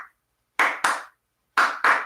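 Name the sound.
clapping imitating a heartbeat rhythm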